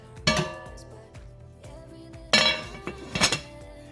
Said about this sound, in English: Put the lid back on this.